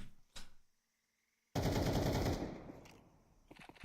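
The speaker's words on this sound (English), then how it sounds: "Mingo is so close to hitting Nor with that AK." AK rifle gunfire in a Counter-Strike esports match, a short burst of loud automatic shots after a brief blip and silence, then trailing echoes and faint shots, with no speech in the clip.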